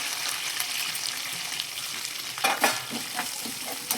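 Cashews, green chillies and onion fry for carat rice in a steady, close sizzle, with a few louder stirring scrapes and clatters near the end.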